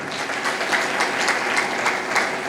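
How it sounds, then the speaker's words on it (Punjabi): A congregation at a sermon claps loudly and steadily, a dense wash of many hands that continues without pause, close and full, with no voices over it. "ਤਾਲੀ ਮਾਰੀਏ ਜ਼ੋਰ ਦੇ"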